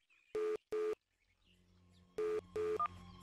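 Several electronic dialing beeps in two pairs, each a short steady tone with a pause between, followed by a faint hum and another brief blip.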